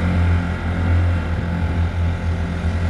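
A Honda 5 outboard motor drives a Nucanoe Pursuit fishing boat with a stainless steel two-blade prop, giving a loud, steady, close droning hum with a low rumble that holds throughout.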